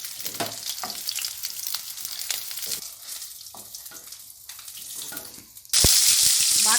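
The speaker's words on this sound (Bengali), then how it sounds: "এগুলোকে একটু হালকা ভেজে তুলে নেব।" Chitol fish balls for Bengali muitha fry lightly in hot oil in a pan, giving a close, continuous crackling sizzle that eases off briefly, then bursts back loud and dense near the end.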